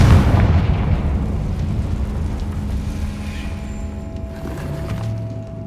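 A Confringo blasting spell goes off in Hogwarts Legacy, opening with a loud booming burst that rolls into a sustained rumble and fades gradually over several seconds, with faint game tones underneath.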